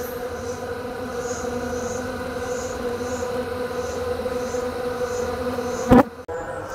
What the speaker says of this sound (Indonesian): Jika berdengung kencang berarti menandakan koloni ini sangat-sangat aktif.